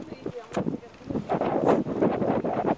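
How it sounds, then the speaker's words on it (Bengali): Outdoors among bare rocky land, wind blows across the microphone in a steady, rumbling gust that swells and persists throughout, with voices talking over it. "গালিবান্ডালুতে কি হয়, হাওয়া চলতে থাকে।"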